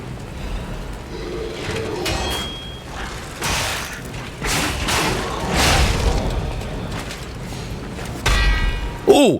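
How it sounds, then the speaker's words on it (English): A gunshot in the game Lies of P: a burst of layered booming and clanking effects, with a sharper hit near the end, amid game ambience and a voice. "Oh, that is perfect gunshot."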